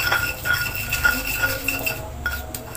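A spoon stirs ground turmeric into a spice mixture for rolled tempeh mendoan, giving repeated light clinks and scrapes against the bowl in an even rhythm, close and moderately loud, with no voices.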